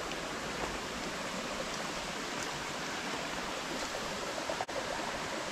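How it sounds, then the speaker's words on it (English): Light rain showers down at a bathing place in Bulutota, Sri Lanka, a steady even hiss with no pauses and one brief click near the end. "A little shower is going on."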